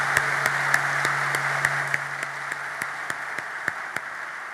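Sustained applause from a graduation ceremony audience at UNIFA, a steady wash of clapping with sharper individual claps poking through, no speech, plus a faint low steady hum underneath for the first half.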